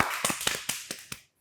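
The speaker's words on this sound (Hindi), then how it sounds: "तो तालियां।" A few people clapping on a current affairs talk show set, six or so sparse, separate claps that taper off quickly into silence.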